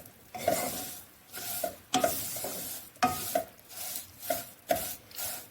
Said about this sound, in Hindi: मैंने इस पैन में इन सेवियों को डाल दिया। बिस्मिल्लाहिर्रहमानिर्रहीम। तो हम इनको अच्छे से भून लेंगे।